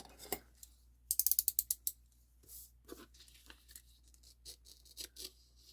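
Scissors snip through cardstock to make an envelope, with a quick run of sharp crisp cuts followed by scattered single snips and paper rustles, close and quiet.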